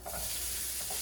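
Shrimp quesadilla filling sizzles loudly in a hot pan on medium-high heat, a dense, unbroken crackling hiss up close.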